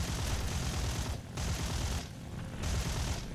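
Aircraft cannon fire strafing an anti-aircraft gun position in the IL-2 flight game, dense rapid bursts with short pauses between them, loud and rumbling over engine drone.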